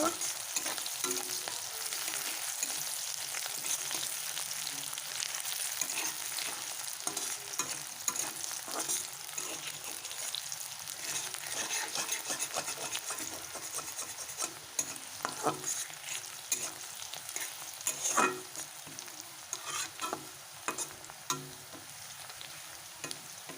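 Fish head frying in oil in a pan for a Bengali dal dish, a steady crackling sizzle with intermittent stirring clatter throughout, close and moderately loud with no voices.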